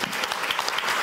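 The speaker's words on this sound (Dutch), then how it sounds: "Wethouder Udo Kok, geef hem een warm applaus" An audience at a city forum on tolerance gives a warm round of applause, dense and steady clapping filling the room without pause.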